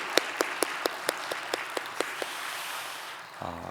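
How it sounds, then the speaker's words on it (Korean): A church congregation at a Wednesday praise service claps together in a burst of applause, a dense run of sharp hand claps that fades out after about three seconds into a quieter room. "우리 서로를 위해서 한번 큰 박수로 한번 격려했으면 좋겠습니다"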